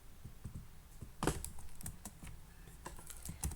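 Computer keyboard keys tapped while editing HTML and CSS code, a quiet run of quick irregular clicks with a few sharper presses, close and alone without talk.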